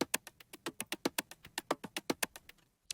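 Two percussion loops layered together, one snappy, tick along in a steady rapid pattern of sharp, quiet hits for about three seconds, alone and without talk.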